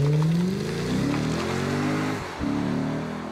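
A Lexus IS-F's highly modified 4.6-liter V8 with an 8-speed transmission revs and pulls, its engine note sweeping up then dropping back, breaking briefly near the end before climbing again, loud and close with no talk.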